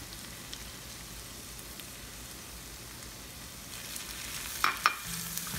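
Sliced garlic, picked thyme leaves, chili flakes and a bay leaf sizzle in a pot, a steady crackling fry with a few sharp clinks of stirring near the end.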